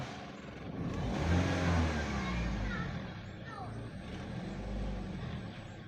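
A car engine revs up and eases off, rising and falling in pitch, with a voice speaking faintly beneath it, as a mechanic checks when the radiator fan switches on automatically.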